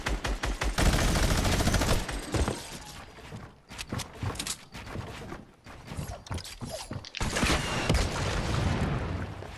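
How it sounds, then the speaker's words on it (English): Minigun fire in Fortnite, a dense, loud stream of rapid shots in sustained bursts with brief gaps, mixed with clanking mechanical game sounds and no talking. "Minigun."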